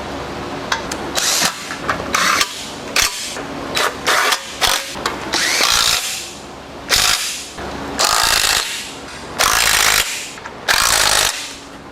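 Power tool driving bolts into a 408 stroker engine during a build, several short loud bursts with pauses between them, close up and with no talking.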